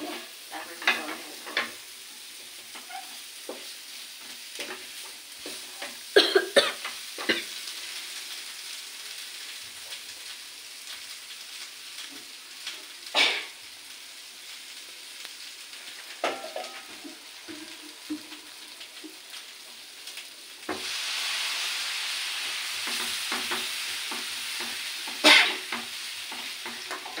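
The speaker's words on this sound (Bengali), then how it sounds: "ভেন্ডিগুলো দিয়ে নাড়াচাড়া দিয়ে তারপরে জল দেবো।" Okra frying in a pan for fish curry is stirred, with intermittent scraping and clattering strokes over a steady soft sizzle that swells louder toward the end.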